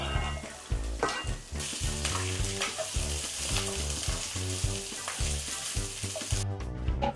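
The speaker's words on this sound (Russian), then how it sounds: "Наливаем немного растительного масла и начинаем обжаривать лук с морковкой." Onion and carrot fry steadily in vegetable oil in a hot pan, giving a continuous close sizzle with crackling bursts throughout and no voices.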